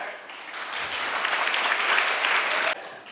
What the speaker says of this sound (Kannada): ನೀವು ಓಡೋಡಿ ಬಂದರೆ ಅವರೆಲ್ಲ ಚಪ್ಪಾಳೆ ತಟ್ತಾರೆ.